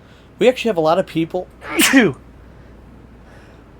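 A single loud, sharp sneeze bursts out close to the microphone right after a person speaks, followed by quiet room tone.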